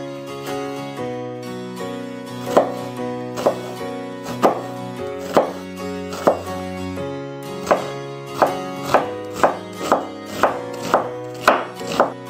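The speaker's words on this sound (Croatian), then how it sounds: "Prvo na sito narežemo luk." A knife finely chops onion on a board, steady rhythmic taps that quicken toward the end over a sustained tonal background.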